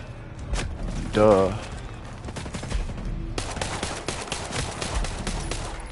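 Video game gunfire with a Uzi in play: scattered rapid shots and bursts crackling through the scene, fairly close, with a voice talking over parts of it.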